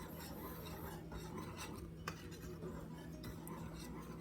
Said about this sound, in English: We're going to give all this a quick whisk